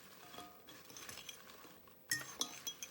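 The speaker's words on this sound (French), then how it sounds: "Là, je mélange." A utensil stirs food in a dish, giving soft scraping and scattered light clinks that grow sharper toward the end, quiet and close by.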